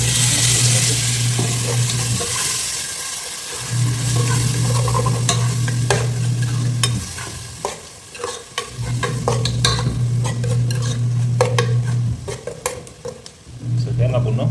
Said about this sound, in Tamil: கொஞ்சம் ஒரு 2 நிமிஷம் எண்ணெயில் ஃப்ரை ஆகட்டும்